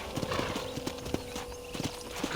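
Hooves of a horse in the video game Red Dead Redemption clip-clop at a steady trotting rhythm, quiet beneath ambient game sound.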